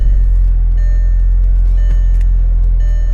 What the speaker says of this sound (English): if you hear it, the car starts up really strong